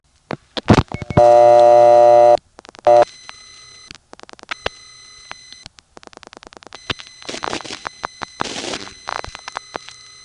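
Telephone exchange tones and clicks on a call from a Bronx panel office to a No. 1 crossbar office in Manhattan: a sustained dial tone, rapid dialing pulses, clattering relay clicks and brief buzzing bursts, no voices.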